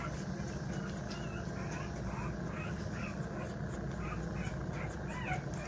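A one-week-old American Bully puppy whimpers with soft, intermittent high cries, faint and close, against a steady background hiss.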